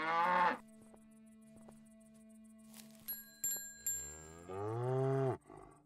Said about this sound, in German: Kuh, lauf nicht weg